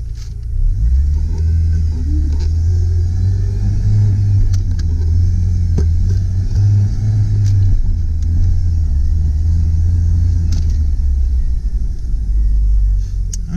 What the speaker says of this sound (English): I'm gonna start out, we'll test the 4x4,